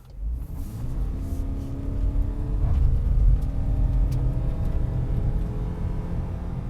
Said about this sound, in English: you can hear the CVT gearbox really straining there